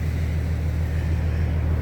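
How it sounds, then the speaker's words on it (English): A truck engine idles while warming up in a national forest in Utah, a steady low rumble with a continuous broadband hum and no talk. "We have to start our truck up and"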